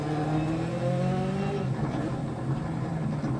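Rally car engine in Dirt Rally 2.0 running down on power with its boost turned down, revving up through gears with rising harmonic whine, loud and close, no talk.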